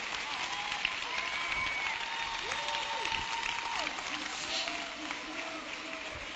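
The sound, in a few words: church audience applauding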